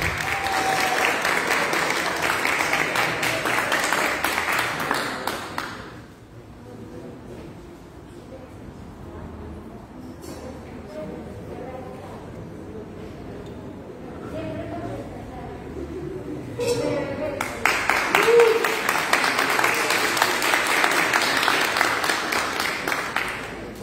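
An audience applauds Melissa López at a formal gathering, a bright burst of clapping that fades into murmuring and talk, then a second strong round of applause.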